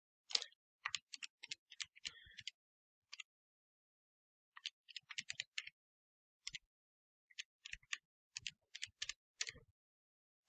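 Numbers keyed into a calculator, quiet, crisp button clicks in irregular bursts with short pauses between them, close by in a silent room.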